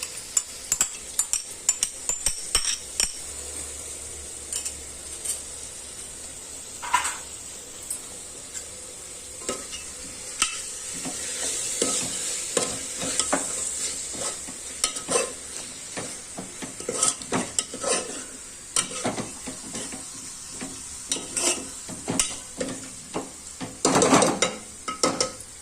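Masoor lentils tipped into a hot pan and stirred, with a steady sizzle and frequent clinks and scrapes of a spoon against the pan, close and fairly loud throughout, with no voices.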